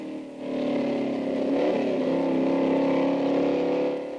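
A motorcycle engine revs up close, a loud droning roar that rises and wavers in pitch for a few seconds before easing off, with no voices over it.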